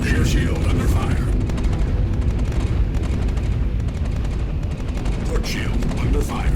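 Sustained, dense weapon fire pounds a spaceship's shields in Star Citizen: rapid impacts and booming hits run continuously for several seconds, loud and close, with a synthetic ship voice calling out shield warnings over the barrage.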